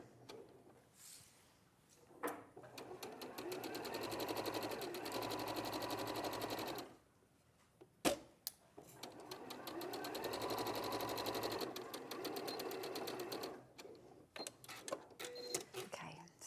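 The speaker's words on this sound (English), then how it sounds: "we're going to sew the side seams of the sleeve together." A sewing machine stitching the side seams of a sleeve runs in two long, steady rattling bursts separated by a brief pause, with a soft voice speaking quietly in the background.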